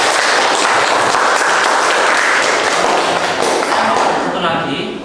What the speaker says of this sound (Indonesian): Kita berikan tepuk tangan untuk ini ya.